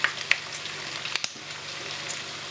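Fatty pork belly fries in oil on a stove turned up to level 8, rendering fat as it crisps. A continuous close sizzle runs under a few sharp clicks and spatters, with no voices.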